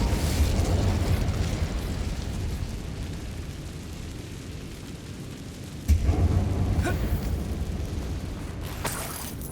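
Incendio fire spell cast in Hogwarts Legacy inside an abandoned mine tomb, producing a sustained roaring burst of flame with a fresh whoosh partway through, loud and continuous.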